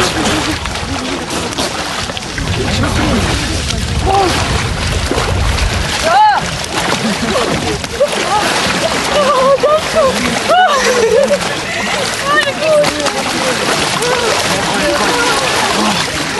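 Splashing and sloshing water as people bathe in an icy lake during Epiphany celebrations, a steady busy wash of splashes with raised voices and shouts mixed throughout.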